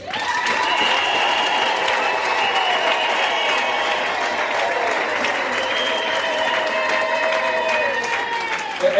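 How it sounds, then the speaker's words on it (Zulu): A church congregation claps hands in sustained applause, a dense steady roar of many hands filling the room throughout, with a few voices calling out faintly over it. "Shaya izandla sibamukele"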